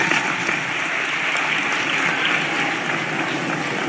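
Steady, dense applause from an audience at a state ceremony honouring meritorious schoolgirls, held at a constant level throughout with no talk over it.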